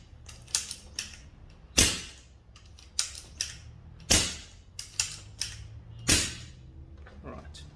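A CO2 air rifle fires four sharp cracks at roughly even intervals, each with a brief ringing decay, and smaller mechanical clicks and handling noises fall between the shots.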